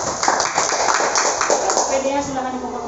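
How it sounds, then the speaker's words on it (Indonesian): A classroom of students claps for a student group after its presentation, with steady scattered clapping over a few seconds, mixed with murmuring voices and some shuffling. "Oke, beri tepuk tangan untuk kelompok 1."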